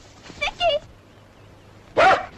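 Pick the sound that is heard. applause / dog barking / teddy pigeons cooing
dog barking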